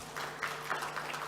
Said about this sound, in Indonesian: tepuk tangan buat Pak Darmono